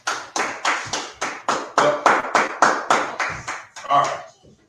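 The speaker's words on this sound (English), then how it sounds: "All right, go ahead, clap it up." A church congregation at a Feast of Trumpets gathering in Kansas City claps in unison, about a dozen loud, evenly spaced claps in a steady rhythm before trailing off.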